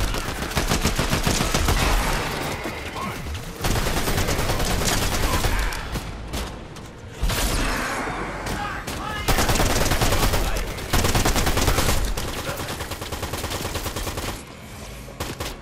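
Video game gunfire as NPCs are shot down before a boss fight, dense rapid bursts of loud automatic shots running almost continuously, with a few short pauses between volleys.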